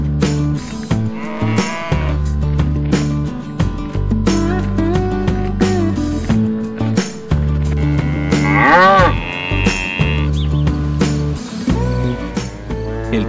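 A cow moos repeatedly over a farm scene, with long, loud, drawn-out lows and bellows following one another throughout, some rising and falling in pitch, with sheep-like bleats mixed in.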